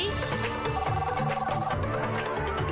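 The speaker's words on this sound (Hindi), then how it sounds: "बॉस का फिर से फोन क्यों आ रहा है?" A cartoon telephone rings with a rapid, trilling electronic tone, loud and close, repeating in short pulses.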